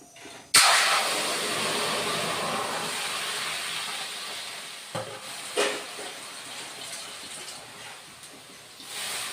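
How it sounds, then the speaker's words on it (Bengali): Potatoes and papaya boil in hot water in a pan: a steady, close bubbling hiss starts abruptly and continues throughout, with a couple of brief knocks along the way. "আলু আর পেঁপে ধুয়ে নিয়েছি এখন অল্প বয়ল করে নিব"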